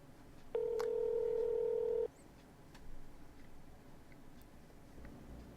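Telephone dialing in the video game Replica: a single sustained dial tone of about one and a half seconds, followed by quiet faint clicks.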